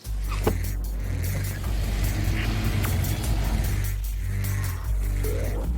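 Boosted Ford F-150 pickup engine accelerating hard, a deep, loud rumbling roar that climbs through revs in surges, with brief drops between gear changes, heard close from inside the truck.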